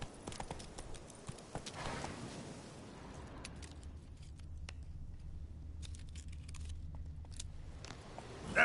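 Hooves of Roach, a horse in The Witcher 3: Wild Hunt, clip-clopping in a steady rhythm at moderate distance, with a low rumbling bed beneath and no talking.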